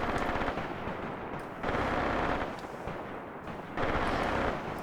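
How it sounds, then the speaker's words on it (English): Machine-gun fire rattles through a forest battle in the war game Graviteam Tactics, coming in long, dense bursts that swell and ease with brief lulls between volleys, loud and continuous with no voices. "Machine guns are still doing a wonderful job"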